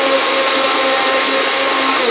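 A kitchen blender whizzes up smoothie ingredients under a closed lid, a loud, steady motor whine with a churning edge that runs unbroken for about two seconds, with no voices.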